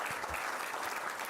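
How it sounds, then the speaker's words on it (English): A dense wash of audience applause fills a short moment at an arbitration conference session, steady and moderately loud throughout. "Can we have a huge round of applause?"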